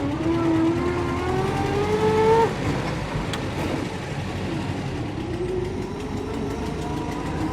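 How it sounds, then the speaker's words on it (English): A 99-year-old 1920s car's engine drones loudly, with a whining tone rising as it accelerates, then a steady rumbling ride with road noise. "Here we are, driving a 99-year-old car."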